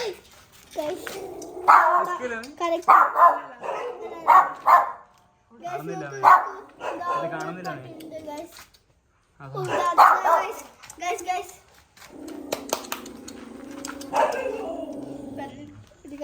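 A dog barks repeatedly in short bursts, close and fairly loud, with pauses between, while people talk over and between the barks.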